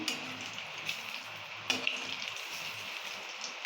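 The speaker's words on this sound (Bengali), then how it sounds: "মা এদিকে বড়া ভাজছে" Elephant foot yam fritters fry in oil, giving a soft, steady sizzle with a few faint crackles and light clicks, heard up close and alone.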